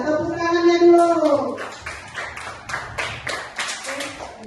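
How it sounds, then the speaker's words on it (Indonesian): Fifth-grade primary school students clap for a presenting group in a classroom lesson, a short burst of quick, uneven hand claps following a teacher's voice, with talk continuing over the clapping. "Tepuk tangannya dulu."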